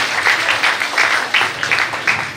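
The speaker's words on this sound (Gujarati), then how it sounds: "એટલે તાળીઓ એના માટે પડી છે." Audience applause at an award ceremony, loud and close, a steady wash of many hands clapping with rhythmic swells throughout.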